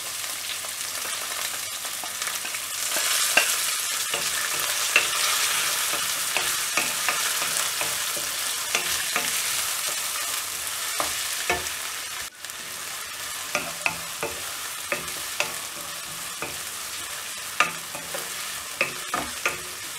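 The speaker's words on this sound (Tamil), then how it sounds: "இப்போ வெங்காயம் ஆட் பண்ணிட்டு இதை நல்லா வதக்கிடலாம்" Onions fry and are stirred in a pan for a karuvadu kulambu, a dried-fish curry, with a steady dense sizzle and repeated scraping stirs throughout, no talking.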